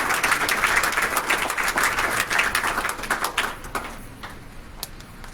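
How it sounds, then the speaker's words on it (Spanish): An audience at a school event on inclusive education claps loudly and steadily, then the applause thins out and fades toward the end. "a los cuales le brindamos un fuerte aplauso"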